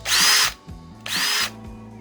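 A DeWalt cordless drill whirs in two short, loud bursts of about half a second each, with a brief pause between them and quiet, faint clicks in the gaps.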